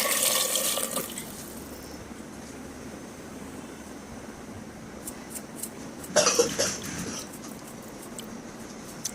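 Water is poured into a pot holding potatoes with salt and food colouring, to boil them for mutton biryani: one short splash at the start and a second brief pour a few seconds later, over a quiet kitchen background.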